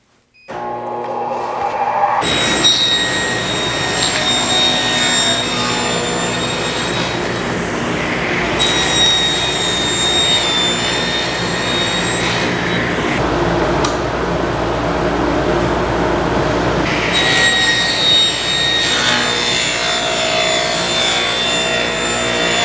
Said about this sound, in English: I have to cut 4 pieces at 3 inches wide